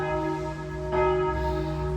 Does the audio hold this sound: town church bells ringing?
yes